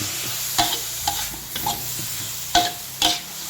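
Mushrooms are tossed and stir-fried in a hot pan, sizzling throughout while a utensil scrapes and knocks against the metal in repeated strokes about every half second; no talking.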